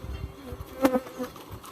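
Bees buzz around a hive being fed from a covered container, a few faint, brief drones rising and fading close by, with one slightly louder pass near the middle.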